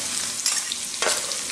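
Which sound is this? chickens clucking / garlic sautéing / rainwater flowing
garlic sautéing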